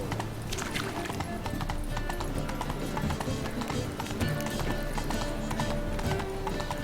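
Roach the horse galloping in Witcher 3, a rapid steady clip-clop of hooves continuing throughout, moderately close, with a brief whinny and faint talk in the background.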